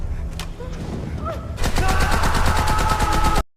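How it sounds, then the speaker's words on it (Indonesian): Gunfire in a film scene where a pregnant wife is shot during a hostage standoff: a few scattered shots over a busy soundtrack, then a sudden dense burst of rapid automatic fire that runs loud and continuous before cutting off abruptly. "istri dan calon anaknya Jim ditembak di depan kepala matanya Jim"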